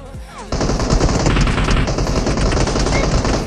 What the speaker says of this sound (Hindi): तभी राइट साइड से मेरे को गन साउंड आता है